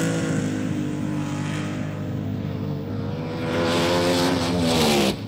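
A rear-engine top-fuel dragster makes a run at the 1971 NHRA Winternationals, smoking its tires: a loud, sustained roaring engine drone with a rising pitch sweep that swells near the end, then cuts off abruptly.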